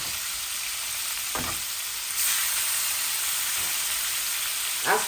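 Tilapia frying in a pan gives a steady close hiss and sizzle that swells louder about midway, with a couple of soft utensil knocks and stirs.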